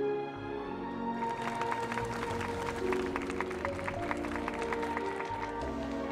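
A crowd applauds at a ceremony aboard an airship in the video game Honkai: Star Rail, with moderate, steady clapping over a sustained musical background.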